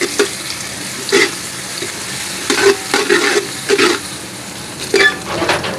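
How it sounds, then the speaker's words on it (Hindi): Medium-sized onion frying in hot oil for a white yakhni pulao: a steady, close sizzle broken by repeated scraping bursts of stirring, with no voices. "तेल में जो है ये मेरे पास प्याज है, एक दरमियाने साइज़ का, इसके अंदर ऐड कर देंगे तेल के अंदर"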